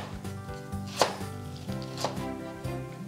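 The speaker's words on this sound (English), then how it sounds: "Now we're going to slice it down." A knife slices a carrot on a cutting board, giving a series of close, crisp chops at an irregular steady pace, with a few louder strikes standing out and no talking.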